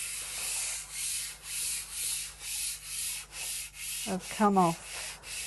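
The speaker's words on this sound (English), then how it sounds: "this bit that's coming off is acting like a very, very mild abrasive" Close, steady rubbing and sanding as dried kiln wash is smoothed on a kiln shelf, with rhythmic back-and-forth strokes of fairly even loudness. A brief voice comes in near the end.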